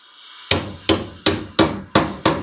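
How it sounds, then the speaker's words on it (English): A hammer strikes copper pipe held in a clamp, six sharp, loud metallic blows at a steady pace, each followed by a short ringing decay, with no voices. "If you ever thought using a hammer for copper would work?"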